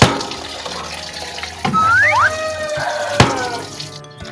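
Chopped chicken for adobo being washed under a running kitchen tap, a steady rush of water into the sink with clattering knocks and splashes of handling, close and fairly loud.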